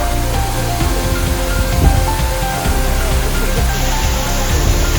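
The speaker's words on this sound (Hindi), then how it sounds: "उससे पहले आप इस झरने का नज़ारा देखिए और लुत्फ उठाइए प्रकृति की खूबसूरती का।" A waterfall along the trek to Jungle Chatti on the Kedarnath route roars as a loud, constant wash of rushing water, close and unbroken for the whole stretch.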